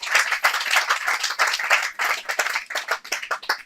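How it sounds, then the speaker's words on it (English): At an outdoor park garden event, the audience claps for the host, brisk and fairly close, a loud patter of many hands that thins slightly toward the end. "Please give a big round of applause for your host today, Philip Jackson."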